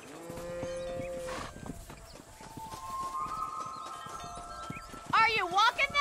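Horse hooves clip-clopping in the Red Dead Redemption video game, a steady mid-distance clopping under game dialogue and ambient music, with a horse whinny or similar call near the end.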